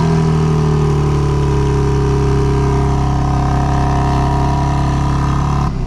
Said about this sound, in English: that quad tip dual exhaust, which we can take a listen to because this does have remote start